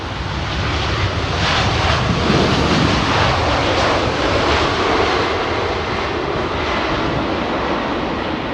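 An Etihad airliner passes at an airport, its loud jet roar swelling in the middle and easing slightly toward the end, close and continuous with no voices.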